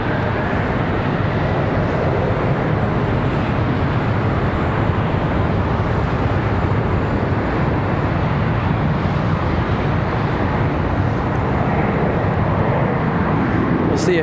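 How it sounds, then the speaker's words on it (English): An American Airlines Boeing 777-300ER jet arriving from London at Charlotte Douglas International Airport, heard as a loud, continuous broadband engine roar holding steady throughout, close and dominant with no other sounds standing out. "There you go, the American 777 from London,"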